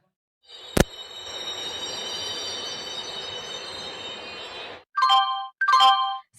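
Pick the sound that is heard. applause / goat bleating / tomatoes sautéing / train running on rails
train running on rails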